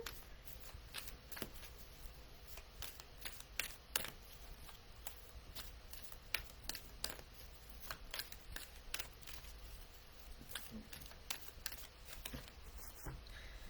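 Oracle deck cards shuffled and handled during a live reading, a steady run of soft riffling and sharp flicks with occasional snaps, close and fairly quiet, no voices.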